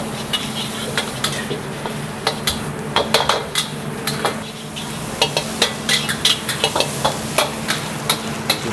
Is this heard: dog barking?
no